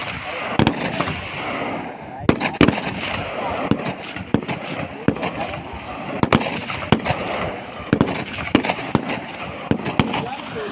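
INSAS rifles fire at a police training school firing range in repeated sharp gunshot cracks, single and clustered, over a constant outdoor background rumble, with no talk over the shots.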